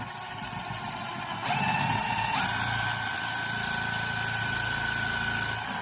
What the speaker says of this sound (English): And drilled a hole.